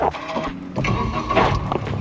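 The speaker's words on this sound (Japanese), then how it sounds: "でエンジンをスタートしましょう" A Suzuki Alto Works tuned to 100 horsepower with a swapped turbocharger cranks and catches up close, settling into a rough, busy idle.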